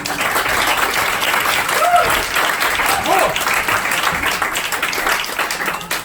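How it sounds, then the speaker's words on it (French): Applause from an improv theatre audience rises in a steady, full wash of clapping, with voices calling out faintly beneath it throughout. "Merci, on peut l'applaudir."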